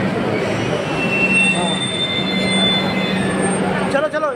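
A crowded Kolkata metro train runs steadily with loud rumbling and high squealing wheels, a whistle-like tone rising toward the end.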